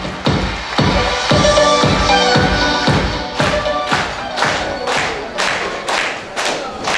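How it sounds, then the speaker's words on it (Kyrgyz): Wedding guests at a Kyrgyz celebration clap and cheer together, a loud, steady run of sharp claps with crowd shouts mixed in, the rhythmic applause filling the whole stretch. "өзгөчө оң канааттагы меймандар дем күч берип бир кол чаап койсок болот."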